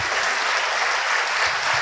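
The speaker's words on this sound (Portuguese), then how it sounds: "vamos dar uma salva de palmas para Jesus" A church congregation claps steadily and densely throughout a short burst of applause, close and even, with no voices on top.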